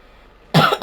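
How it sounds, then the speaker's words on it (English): A single short cough, close and sharp, breaking a near-silent pause. "My cough seems to be slightly better now."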